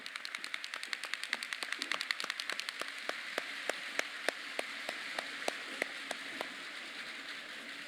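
An audience claps at an early childhood celebration event, with a steady patter of many hands that gradually thins toward the end, moderately loud with no voices over it.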